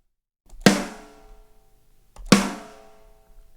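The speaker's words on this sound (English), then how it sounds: "you get this amazing full kind of ethereal space of a snare" Two full snare drum hits spaced well apart, close, overhead and room mics combined, each blooming into a wide, airy reverberant tail.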